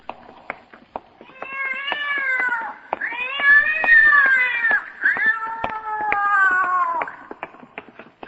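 A large cat gives long, drawn-out meows and caterwauls, three loud wavering cries in close succession with scattered clicks between them.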